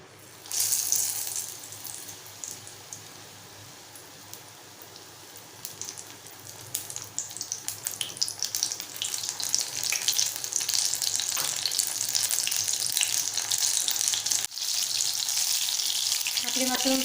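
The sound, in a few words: mushroom bhaji frying in oil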